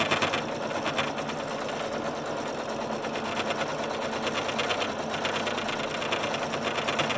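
A home sewing machine stitches pleats into a fabric face mask, running steadily with a fast, loud, rattling hammer that holds for the whole stretch with no pause.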